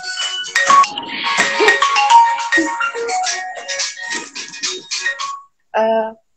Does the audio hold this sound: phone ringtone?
yes